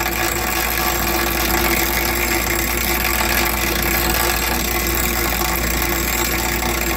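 A grinder steadily grinding down a Kimpex shock part for a 2003 Polaris Sportsman 700 ATV, a loud, continuous, unbroken drone that holds for the whole stretch with no talk.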